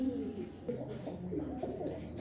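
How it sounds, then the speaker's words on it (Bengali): Racing pigeons, a pair kept for sale, give soft, low throaty coos in short repeated phrases, close by and moderately quiet against faint background noise. "এই দেখেন দুইটা কবুতর"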